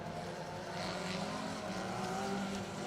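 A Vauxhall Magnum rally car with a 2.3 litre engine runs at a winter stage event at Brands Hatch, a steady, somewhat distant engine drone holding a constant pitch throughout.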